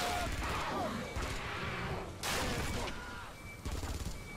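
Gunfire from the video game Aliens vs Predator, dense bursts of shots and impacts rolling through a busy mix, with a louder burst midway and continuous game clatter and effects throughout.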